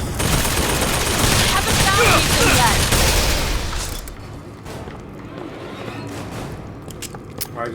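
Rapid automatic gunfire in Bioshock Infinite Burial at Sea, a loud sustained burst of shots for about four seconds that cuts off, followed by scattered fainter clicks and mechanical sounds.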